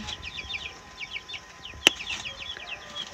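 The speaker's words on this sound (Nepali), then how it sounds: "चल्ला ल्याउनु भएछ है?" Young chicks peep in quick, thin repeated chirps, fairly faint, with one sharp click partway through.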